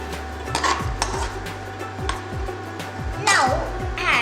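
A spoon stirs a sweet poha mixture with coconut in a pan, making repeated scraping clinks and taps against the metal at a steady, close, moderate level.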